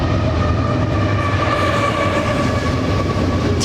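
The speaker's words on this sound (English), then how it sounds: "Long, loud trains" A long, loud freight train rolls past close by along the upper Mississippi River, giving a constant rumbling roar with tonal rail hum and a faint squeal near the end.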